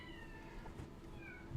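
A young girl imitates a cat with drawn-out, wavering meows, two or three strained cries rising and falling, heard fairly close against a quiet room.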